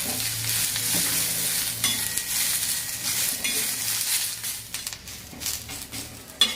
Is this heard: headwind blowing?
no